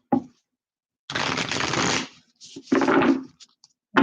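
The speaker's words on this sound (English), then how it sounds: "So a couple more shuffles here." Playing cards shuffled by hand during a tarot-style reading, three loud riffling bursts: a long one near the start, a second after a short pause, and a brief one at the end, each a dense rapid flutter with no talk over it.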